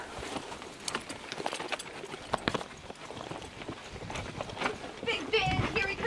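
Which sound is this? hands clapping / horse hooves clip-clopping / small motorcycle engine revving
horse hooves clip-clopping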